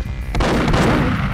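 Gunshots in the Perfect Dark video game, a loud, booming pair of heavy blasts about a third of a second apart with a rumbling tail, close and without speech.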